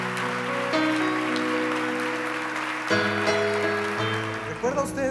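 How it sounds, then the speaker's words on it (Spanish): Applause from a church congregation during a Spanish-language sermon, a broad patter of clapping carrying on steadily for several seconds over sustained organ or keyboard tones. "Damos un aplauso, muchas gracias"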